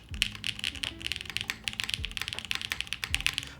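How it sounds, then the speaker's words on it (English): Rapid, uneven clacking of a mechanical keyboard fitted with alpha keycaps, keystrokes close and crisp with occasional heavier thocks, steady throughout with no talking. "The more I type on these alphas, the more I like it."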